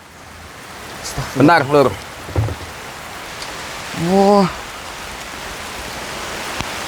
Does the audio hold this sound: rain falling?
yes